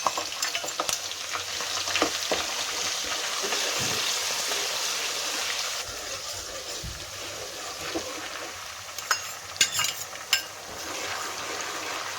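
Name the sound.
garlic, ginger and onion frying in a pan for pav bhaji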